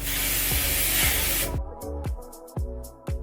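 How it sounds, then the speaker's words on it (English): A long continuous aerosol hiss from a can of hair setting spray lasts about a second and a half, then stops, leaving soft handling taps and clicks. "So now I'm gonna go ahead and set it with my Blow Dry After Dry spray"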